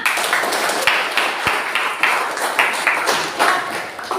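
A classroom group claps after a student presentation on biography texts, producing loose, uneven bursts of hand claps with a few sharp individual smacks standing out, close and fairly loud.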